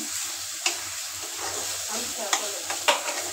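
Spices and a small cut potato frying in a pan, a close steady sizzle with a few sharp scraping stirs against the pan, no talking.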